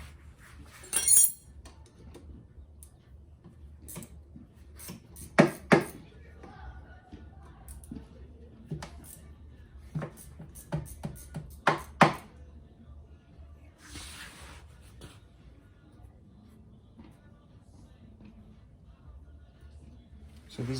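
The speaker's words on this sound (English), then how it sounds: "I'm gonna slide underneath here with my wrenches, and let's see if we can break this motor loose" Wrenches work on the motor bolts of a Club Car Precedent six-seater golf cart, giving sparse metallic clinks and clanks at irregular intervals, close up, with quiet handling noise between them.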